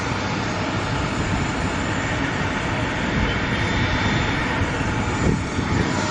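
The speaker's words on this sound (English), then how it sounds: "This plane is pretty big." Steady, loud broadband roar of a large airplane's engines, continuous and even throughout, heard from close by with no talking.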